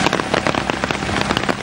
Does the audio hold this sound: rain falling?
yes